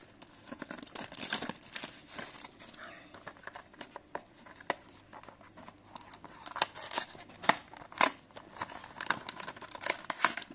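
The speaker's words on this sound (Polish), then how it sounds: "Czas odpakować pudełko, folię i zobaczyć, co otrzymamy w środku." An SSD box and its foil packaging are torn open at close range, with sharp crinkling, ripping and rustling in irregular bursts, moderately quiet.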